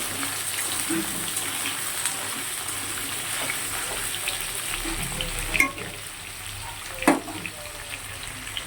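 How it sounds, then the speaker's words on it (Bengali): Potatoes and pointed gourd fry in hot oil with whole cumin in a pan, a soft steady sizzle with a couple of sharper clinks of stirring, moderately close. "আলু পটলটা খুব ভালো করে ভেজে নেব।"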